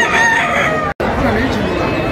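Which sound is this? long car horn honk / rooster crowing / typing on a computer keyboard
rooster crowing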